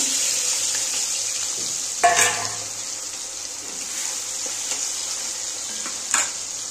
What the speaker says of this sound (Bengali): তেলটা গরম হয়ে গেছে, এবার আমি পেঁয়াজ আর কাঁচা লঙ্কাগুলো ভেজে নেব